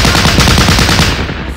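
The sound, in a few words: gunfire from units shooting in Battle Academy video game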